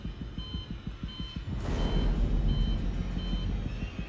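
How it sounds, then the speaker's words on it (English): A rapid, evenly spaced electronic beeping repeats loudly in the video game Alien Isolation, then gives way to a rising broadband rumble and hiss while faint, slower tones continue above it. "Why is it so loud? Why is it beeping so loud?"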